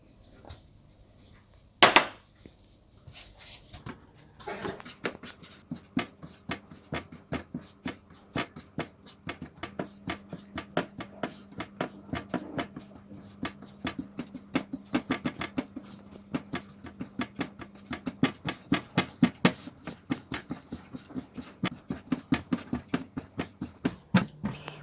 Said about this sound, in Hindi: और मसलसल चम्मच चलाते रहिएगा, आंच को हल्का रखिएगा वरना आपकी चीनी जल जाएगी।